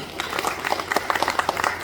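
Applause for a speaker at a political rally in Dhaka, steady dense clapping from a crowd lasting the whole short moment with some murmur underneath.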